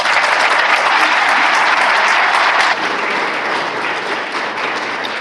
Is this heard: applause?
yes